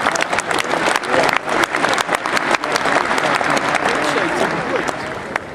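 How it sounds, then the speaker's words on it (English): Sustained applause from an audience at a Red & White cattle show, honoring the breeders, with dense clapping running continuously at steady volume and some crowd murmur and voices mixed underneath. "the breeders need a nice round of applause for a tremendous job"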